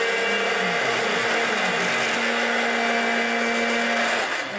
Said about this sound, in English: we're going to grind for 40 seconds